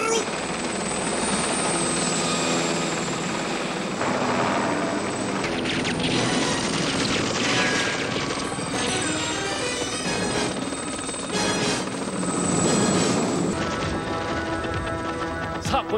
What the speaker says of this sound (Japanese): 最新テクノロジーの極致みたいにものすごい戦闘ジェットヘリ